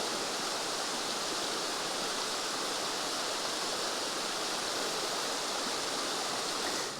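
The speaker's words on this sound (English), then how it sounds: "I could just sit here and just listen to the water flowing down over the rocks." Stream water flowing over rocks along the Great Allegheny Passage trail between Rockwood and Confluence, a steady, dense rushing wash that stays even and loud throughout, with no voices.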